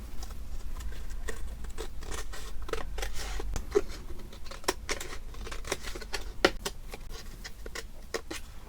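Scissors snip away excess paper from a junk journal envelope in a rapid run of crisp, close cuts, with short pauses between groups of snips and no talking.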